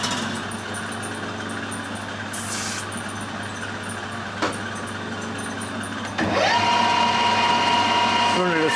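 Milling machine at about 1,000 RPM cutting a custom gear lever on a milling table, a steady droning hum of motor and cutter with a brief tick midway, then a louder, higher whine picking up near the end.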